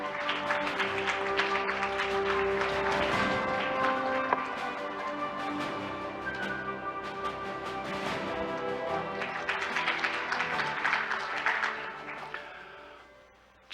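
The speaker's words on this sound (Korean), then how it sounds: "여러분의 큰 박수로 맞이하겠습니다" An audience at the opening ceremony of Arctic Partnership Week 2021 applauds as the Minister of Oceans and Fisheries takes the stage. Sustained applause rolls on under musical tones, swelling and thinning before fading out.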